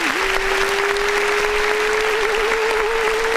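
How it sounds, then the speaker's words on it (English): Applause sound effect triggered by a clap button on a music review show, steady canned clapping with a sustained tone running through it. "then we'll press the clap button"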